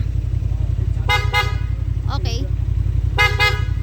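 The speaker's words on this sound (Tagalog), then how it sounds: "parinig ako ng busina." Horn on a Honda Transalp 750 motorcycle sounds in short paired toots and then a double blast over a steady low engine idle nearby, with a person briefly speaking between them.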